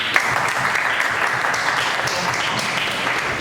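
Students in a vocational school competency exam session clap together in a dense, steady burst of applause that continues at even loudness throughout.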